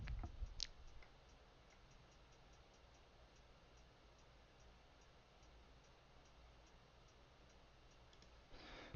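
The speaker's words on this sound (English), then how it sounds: "I'll show you what the hi-hat by itself sounds like" A programmed hi-hat sample from an FL Studio beat ticks faintly and steadily in an even, quick pattern, very quiet and alone, with no other instruments.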